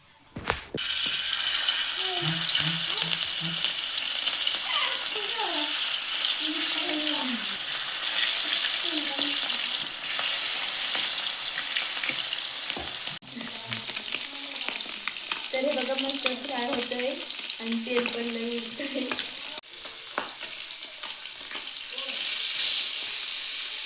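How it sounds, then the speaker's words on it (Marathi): Marinated fish fries in oil on a hot griddle with a continuous, close sizzle and spatter, while someone talks over it for much of the time. "आता ते तळून घेते तर तवा तापला आता तेल टाकून घेते"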